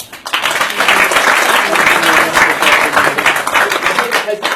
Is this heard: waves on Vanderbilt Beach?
no